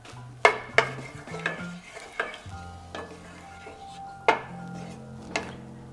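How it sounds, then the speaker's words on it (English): Thinly sliced garlic cloves sauté in melted butter in a pan, a soft sizzle running under a series of sharp utensil clicks and taps against the pan, spaced irregularly, with faint low hum throughout. "we're gonna saute a few cloves of garlic I've sliced real thin."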